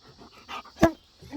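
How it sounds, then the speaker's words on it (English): A dog pants quickly and audibly close by, with a single louder bark-like burst partway through, in a quiet room with no talking. "Is that your dog?"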